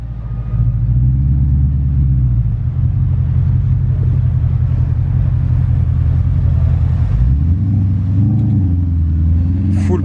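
A Porsche Panamera and a Ford Mustang Bullitt roll in on a Monaco street, their engines giving a loud, close, continuous rumble that steps down and then rises again as they pass, with faint talk beneath.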